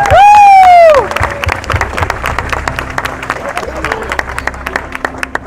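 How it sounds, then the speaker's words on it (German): A crowd of participants at a long-distance walking event in Dortmund claps and cheers in a lively burst after a loud, rising whistle-like tone, the scattered hand claps continuing steadily in the open air. "Dann machen wir jetzt mal einen riesen Applaus für den neuen Mammuts"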